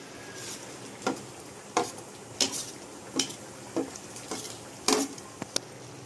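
A utensil scrapes and knocks against a pan of chicken curry in a series of short, spaced strokes, fairly close, with a quiet background.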